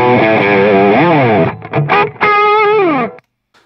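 An electric guitar runs through a Boss SD-1 Super Overdrive with drive and level fully up, playing loud, saturated sustained chords with bending slides, a brief choppy stretch, then a final ringing chord cut off into silence.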